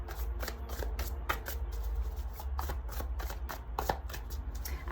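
A deck of astrology cards is shuffled by hand in a pick-a-card reading, with dense, rapid riffling and flicking that comes in close, steady bursts with no talk over it.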